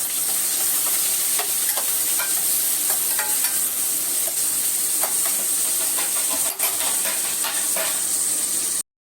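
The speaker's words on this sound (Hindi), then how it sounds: "ये प्याज डालूंगी भूनने के लिए।" Onions fry in a pan on an induction stove, giving a loud, continuous sizzling hiss close up with scattered pops and crackles throughout, until it stops abruptly at the end.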